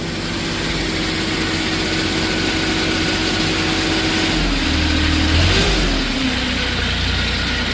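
2016 Moffett M8 truck-mounted forklift engine running steadily and loud nearby while the mast tilts, side-shifts and moves in and out, with hydraulic load shifts changing the drone near the end.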